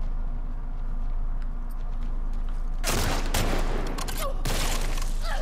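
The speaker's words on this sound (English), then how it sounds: "let Dina use up all her ammo" Gunfire in The Last of Us Part II, a dense loud burst of rapid shots erupting midway over a steady ambient rumble.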